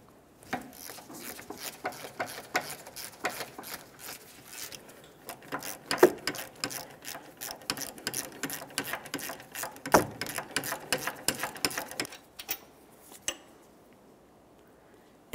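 Ratchet loosening 18mm brake caliper bolts on a Jeep Grand Cherokee, a rapid continuous clicking of the pawl in quick bursts, close up, with brief pauses and a final few clicks before quiet.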